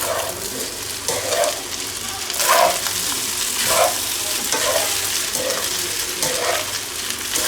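Chicken fried rice with green onions being stir-fried in a wok, a continuous loud sizzle with rhythmic scraping and tossing strokes recurring about every second, close up, with faint talk underneath.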